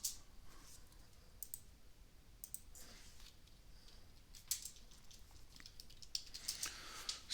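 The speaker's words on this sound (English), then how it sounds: "we can just type it this way" Typing on a computer keyboard: light, close key clicks in short irregular clusters, quiet over a faint steady background hiss.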